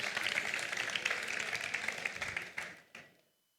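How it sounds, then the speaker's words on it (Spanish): Audience applause at a gastronomy event, dense clapping that holds steady for over two seconds, then thins into a few scattered claps and fades to near silence. "No, un aplauso, no os cortéis, no, un aplauso, hombre."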